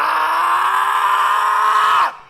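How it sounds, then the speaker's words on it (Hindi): A man's dramatized horror scream, loud and sustained for about two seconds at a harsh strained pitch before cutting off abruptly, performed alone as a tantrik's cry in a spoken horror tale. "अचानक तांत्रिक चीखता है"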